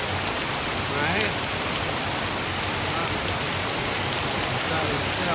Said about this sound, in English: And wait for the rain to stop.